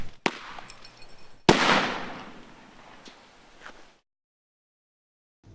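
A small crack, then a loud blast from a non-lethal fragmentary grenade, followed by a decaying crackling rumble and a few scattered pops before the sound drops to silence.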